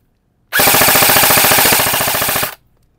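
An HFC airsoft electric gun fires a two-second burst on full auto, a loud, rapid, even rattle of shots close to the microphone that stops abruptly, with silence before and after.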